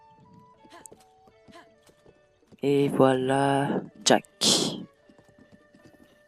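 A horse in Zelda Breath of the Wild answers a whistle and gallops up, giving quick clip-clop hoofbeats followed by a loud, drawn-out whinny and snorts. Someone talks briefly before and between the sounds.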